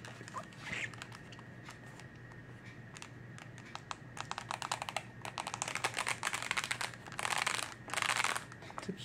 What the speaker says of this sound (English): The keyboard sounds magnificent.